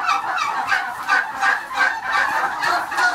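Turkeys in a barn give loud, close, rhythmic honking calls in a repeated pulsing series, with no voices.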